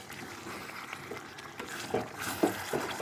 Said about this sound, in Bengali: এবার আমি মাংসটা একটু খুলে নেড়ে নেব